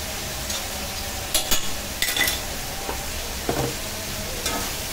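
Cumin and coriander paste stirred in a hot pan for a Bengali prawn and stalk curry, a faint steady sizzle under a few scattered scrapes and clinks of the spoon against the pan.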